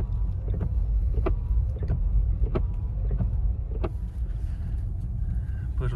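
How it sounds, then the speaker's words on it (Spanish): Steady engine and road rumble from a BMW E36 318is coupe descending a snowy, slippery road in Andorra, with the rear-wheel-drive car sliding; a loud, continuous drone with occasional knocks and faint voices. "el coche ya está resbalando bastante"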